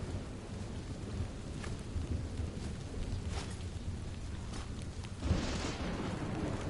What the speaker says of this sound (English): This is such a cool environment. Like, it's just gloomy and rainy.